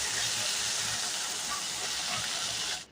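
Okra and potato pieces frying in hot oil with salt and turmeric, a steady, close, loud sizzling hiss that holds evenly and cuts off abruptly at the end, with no talk.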